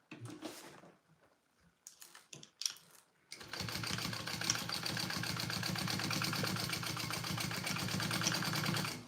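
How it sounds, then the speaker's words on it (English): A sewing machine runs a steady, fast mechanical whir as it stitches an extra row on a backpack connector, following a few seconds of quiet handling clicks and rustles. "I'm gonna do extra row stitching down here on the connector"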